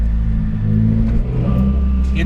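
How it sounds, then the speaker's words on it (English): A dyno-tuned 300 hp Subaru WRX rumbles at low revs with the windows down, a deep steady engine drone heard from inside the car, with a person talking over it. "the sound at low RPMs with this thing is just absolutely incredible"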